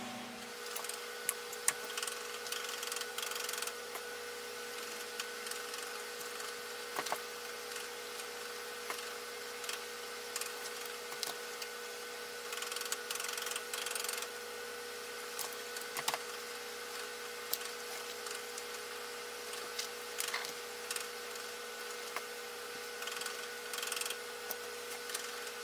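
Hand stitching on a leather Bible cover with fabric lining, a soft, steady run of faint rubbing and thread-pulling sounds, close and quiet with small irregular clicks, no talking.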